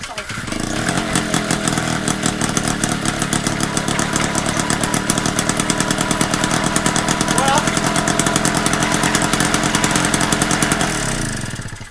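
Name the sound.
MBK 51 moped engine started and running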